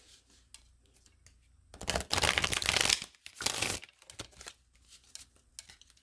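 Tarot card deck shuffled by hand for a reading, soft riffling and flicking of cards in two main bursts with quieter scattered shuffles after, close and otherwise quiet.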